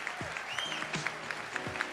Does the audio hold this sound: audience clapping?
yes